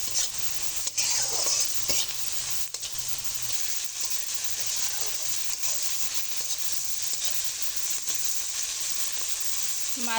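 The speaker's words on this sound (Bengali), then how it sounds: "মাছ, ঝাল, পেঁয়াজগুলো আমার খুব ভালো করে ভাজা হয়ে গেছে।" Shrimp, garlic, green chili and chopped onion fry in a pan with salt and turmeric, a steady close sizzle with scraping stirring strokes and occasional utensil knocks, no voices.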